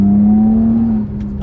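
A 2020 Toyota Camry TRD accelerates hard, its engine holding a loud, steady drone from inside the cabin. The tone eases off near the end.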